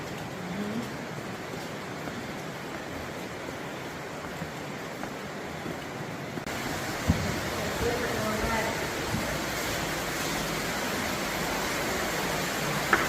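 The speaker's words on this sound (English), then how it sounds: "You hear that water?" Water flows with a steady, broad rushing sound, continuous and moderately loud, with occasional small knocks.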